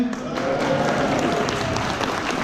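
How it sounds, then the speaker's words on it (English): An audience at a London conference in 2019 applauds, a brief, dense wash of clapping that carries steadily for a couple of seconds without clear talk. "Give us a cheer."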